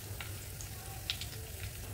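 Curry leaves crackle and sizzle in hot oil with mustard seeds and cumin during a Kolhapuri veg kadai tempering, a steady close frying hiss with a few brief sharper pops, no talking.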